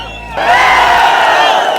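A large crowd at a political rally erupts into loud, sustained cheering and shouting that starts abruptly and holds steady for over a second.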